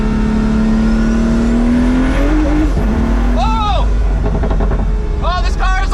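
Pagani Huayra Roadster BC supercar accelerating hard, its engine note climbing loudly with slow single-clutch gearbox shifts breaking the pull, while a person talks over it.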